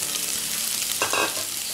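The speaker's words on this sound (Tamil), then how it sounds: "வெங்காயமும் நல்லா வதக்கி விட்டுக்கோங்க." Sliced onions sautéing in a pan for Tamil-style chicken kulambu, a steady close sizzle with a brief stirring scrape in the middle, no voices.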